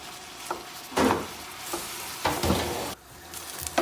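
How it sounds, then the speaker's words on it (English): Ground meat frying in a hot pan while a tool breaks it up, with steady sizzling and several loud scraping, chopping bursts at irregular intervals, close and without talk. "We're gonna use this handy dandy tool to break up the meat."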